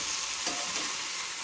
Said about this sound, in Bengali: এটা হচ্ছে বটবটি দিয়ে আলু দিয়ে ভাজা হচ্ছে।